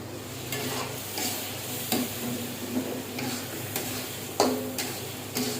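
Meat cooks in a pan on a home stove, a low sizzle running beneath intermittent stirring clatters and utensil scrapes against the pan, close and moderately loud.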